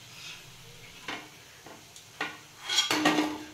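Someone bites into crunchy chana dal bhaji fritters fried in oil without soda: a few sharp, close crunches spaced apart, then a longer burst of crackling chewing near the end, with no talk.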